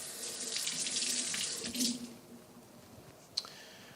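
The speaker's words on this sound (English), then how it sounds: "Now you rinse some of this off." Tap water runs loudly over a potato being rinsed for about two seconds, then shuts off, leaving a quiet room with a single small click near the end.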